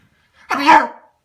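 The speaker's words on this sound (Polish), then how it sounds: "A będę kichał." A single loud sneeze from a young man, a sharp burst lasting under a second with nothing else around it.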